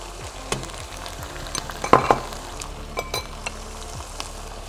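Minced meat fries in a pan with turmeric, a close, continuous sizzle broken by stirring scrapes and a few light clinks of a utensil against the pan, with no talking.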